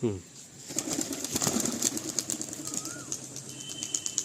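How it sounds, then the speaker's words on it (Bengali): Pigeons are released by hand at a pigeon seller's place, a few brief bursts of wing flapping close by amid coos and light background noise. "এই যে 4টে পায়রা ছাড়বো"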